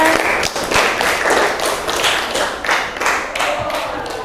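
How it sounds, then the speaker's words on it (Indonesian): Students in a junior high English classroom clap for a group of classmates, a brisk, uneven burst of hand claps with a few louder slaps standing out. "Give applause to your friends."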